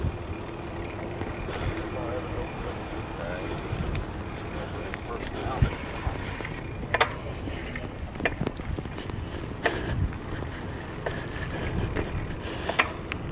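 Bicycle ride over a bumpy sidewalk and streets, with constant wind rush and rolling rumble punctuated by several sharp clunks and rattles from bumps, close and moderately loud throughout.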